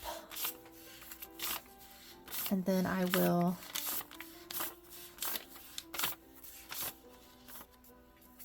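Playing cards being shuffled by hand in a series of short, crisp riffling bursts, with a person talking over and between them.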